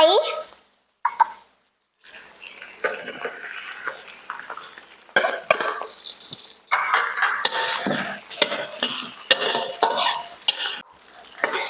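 Surf clams stir-fried in a hot pan after garlic turns golden, with steady sizzling and brisk scraping of a spatula against the metal, plus short pauses and clattering. A voice seems to come in now and then.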